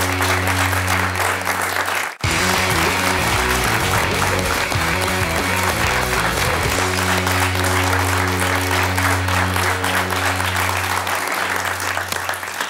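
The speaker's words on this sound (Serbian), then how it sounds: "Može aplauz." A studio audience on the Serbian late-night comedy show 24 minuta sa Zoranom Kesićem claps loudly and steadily for over ten seconds, with band music playing underneath throughout.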